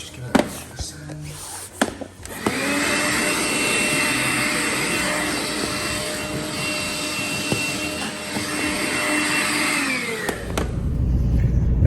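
Dried filler is sanded down with a powered sander, which holds a loud, steady motor whine for about eight seconds, framed by a few knocks and handling noises.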